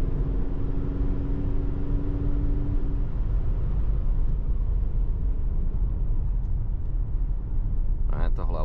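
Engine and road noise from a Maserati Grecale Modena SUV while driving: a steady, broadband rumble with a low hum, close and continuous, ending with a brief clatter.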